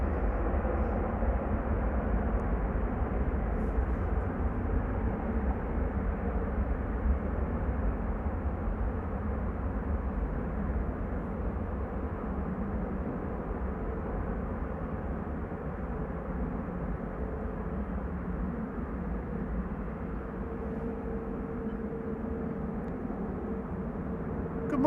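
A KLM passenger jet departing Amsterdam Schiphol Airport, a steady, heavy engine roar with broad rumbling noise that holds loud and even throughout, with no voices over it.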